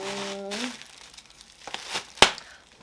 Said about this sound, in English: We got a whole bunch of bubble wrap.